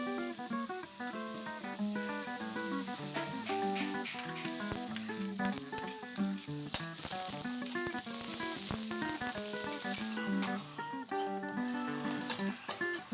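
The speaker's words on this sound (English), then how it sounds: "Add garlic and onion and stir until translucent." Garlic and onion sauté in hot olive oil in a pan while being stirred, giving a steady bright sizzle that runs throughout, with music playing over it.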